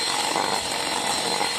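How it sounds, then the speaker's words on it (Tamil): An electric hand beater whirs continuously at high speed, loud and close, as it mixes carrot cake batter with eggs. "முட்டையும் போட்டு இப்போ நம்ம பீட் பண்ணுவோம்."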